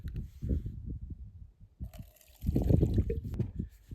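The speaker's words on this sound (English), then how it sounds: "Then I put a little water in here." Water poured into a container holding dirt and fine gravel, gurgling and splashing in two short bursts separated by a brief pause, close and fairly faint.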